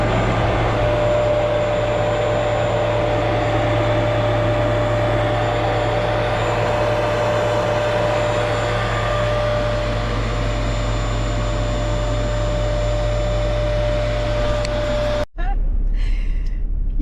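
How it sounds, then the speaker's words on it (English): A machine cleans the carpet aboard a boat, running as a loud steady low drone with a constant whine for over fifteen seconds before stopping abruptly. "I'm gonna get to cleaning the carpet."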